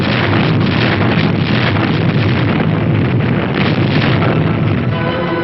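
Naval guns on a warship firing back at enemy coastal batteries during the Dragoon landings in southern France, a dense continuous roar of heavy booms and rumbling blasts, loud and sustained throughout, with wind-like noise and no talk.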